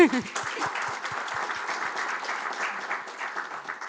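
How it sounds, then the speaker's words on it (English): An audience at a panel event on Moldova and Ukraine's accession breaks into a steady round of applause, dense clapping that holds evenly throughout after a brief voice at the start. "Shall we just greet them with a big round of applause?"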